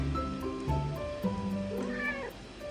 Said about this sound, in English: Cat's invading.